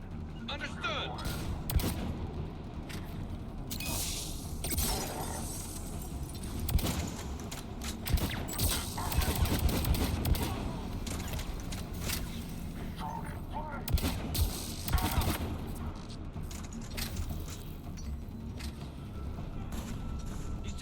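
Gunfire in the video game Mass Effect 3, a continuous dense rattle of shots and blasts under battle noise, with voices talking over the action.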